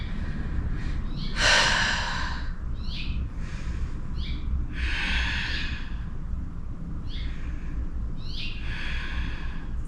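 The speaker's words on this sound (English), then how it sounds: "3 slow breaths. Open mouth exhales are optional." During a yoga session, slow audible breaths repeat every second or two: airy open-mouth exhales with softer inhales, close and breathy over a low steady background hum, with no talking.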